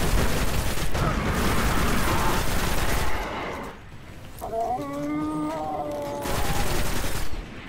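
Rapid, loud gunfire rattles in the video game Destiny, with sustained bursts, a short lull with ringing tonal effects, then another burst.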